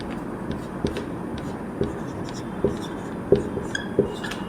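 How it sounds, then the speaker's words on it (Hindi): Marker or chalk writing on a board in a biology lesson, soft scratchy strokes with a few sharp taps, quiet and close, over faint room noise. "मैं यहाँ पे लिखती हूँ विबजियर"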